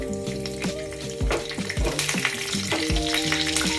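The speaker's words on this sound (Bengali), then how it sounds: "কালো সর্ষে, আর দেব একটু কারি পাতা।" Black mustard seeds and curry leaves fry in hot oil, giving a close, crackling sizzle with sharp popping bursts and a few stirring knocks.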